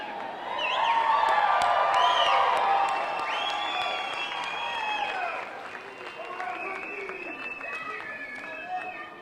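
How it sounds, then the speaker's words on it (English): A university graduation ceremony crowd cheering and applauding loudly, with whoops and high shouts over dense clapping, strongest early and then tapering slightly but sustained, with voices in the mix. "you can cheer more"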